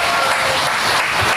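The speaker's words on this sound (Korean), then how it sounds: "이럴수록 박수 한번 크게 쳐주시는 게" An audience at a concert and launch ceremony in Busan applauds, a dense, continuous wash of clapping from a crowd throughout the brief moment.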